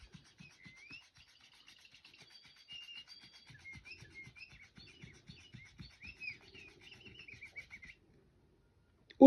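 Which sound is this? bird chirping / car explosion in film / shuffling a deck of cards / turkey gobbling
bird chirping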